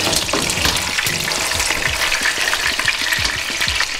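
Veal roast browning in a pan gives a steady, loud sizzle and crackle of frying fat, with occasional soft scrapes of a wooden spoon, continuous with no talk.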